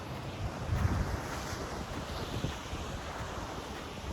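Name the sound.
waves and wind by the sea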